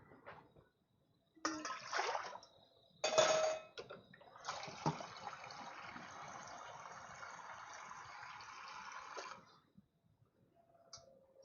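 Tap water running into a saucepan in a home kitchen, a few short splashes and then a steady stream for several seconds before it shuts off, close and moderately loud.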